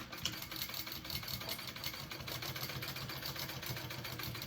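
Sewing machine basting sling fabric pieces together, running steadily at close range with a continuous fast mechanical whir and stitch rhythm, no pauses.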